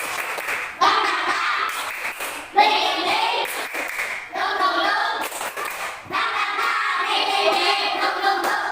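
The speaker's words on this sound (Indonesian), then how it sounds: "Kita tepuk semangat bunga." A school class claps a rhythmic chant pattern together, with bursts of group hand claps in repeated phrases separated by short pauses while children's voices chant along.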